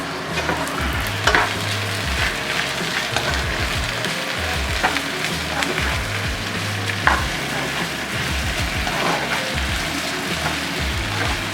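Sliced potatoes and onion frying in a pan for a potato gratin, a steady busy sizzle with frequent scraping stirs and light clatter, close and continuous with no talking.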